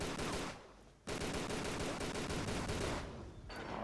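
Rapid gunfire from Tomb Raider: Angel of Darkness rattles out in dense automatic bursts, broken by a brief pause and a short dip near the end, loud and close.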